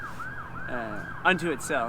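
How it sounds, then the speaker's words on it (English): An ambulance siren passing by outside, its wailing up-and-down sweeps fairly faint and distant, with a voice speaking briefly over it near the end. "That was an ambulance going by."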